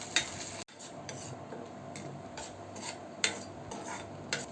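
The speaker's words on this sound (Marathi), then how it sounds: "त्यामुळे तेल सुटेपर्यंत आपण याला परतून घेऊ" Raw tomato and onion paste being sautéed in oil in a pan, with soft sizzling under repeated scraping and stirring strokes of a utensil against the pan. The sounds are close and fairly quiet, and no one speaks.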